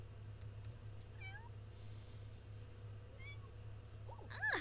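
A pet cat in a Sims life-simulation game gives a few short synthetic meows over steady background music, with a louder meow at the end.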